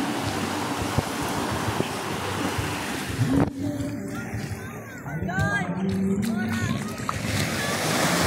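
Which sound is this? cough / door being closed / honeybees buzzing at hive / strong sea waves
strong sea waves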